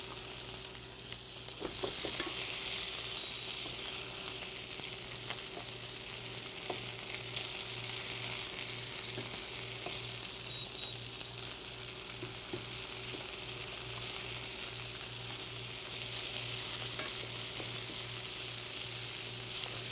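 Shrimp and garlic sizzling in a frying pan for shrimp scampi, a continuous close crackling hiss with occasional pops and clicks of stirring, a steady hum underneath.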